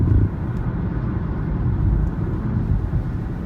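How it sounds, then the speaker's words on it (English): Renault lane departure warning making a simulated rumble strip sound inside the car, a low buzzing rumble pulsing over steady road noise with no talk. "you'll get that kind of rumble strip sound"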